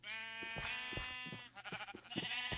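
Sheep in the video game Minecraft bleat in a steady, overlapping run of wavering, nasal cries, loud and close, with no talking.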